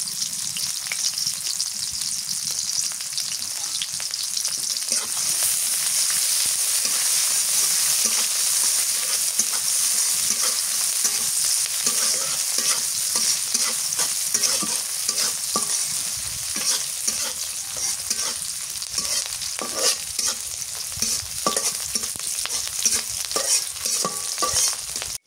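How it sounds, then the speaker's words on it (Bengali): Bitter gourd, potato, onion and green chilli fry for a village-style bhaji. A loud, steady sizzle runs throughout, with frequent scraping stirs in the pan and no talking. "কাঁচামরিচ করলা আলু ভাজি করবো এবার"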